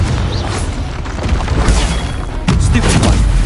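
Confringo spell cast in Hogwarts Legacy, a fiery blasting spell: dense booming bursts and thuds rumble in low, with a sharper impact near the end amid ongoing combat noise.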